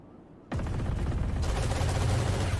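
Sustained Odin machine gun spam with turret fire in a Valorant match, a dense, loud, continuous burst of rapid gunfire starting abruptly after a brief quiet moment and running to the end.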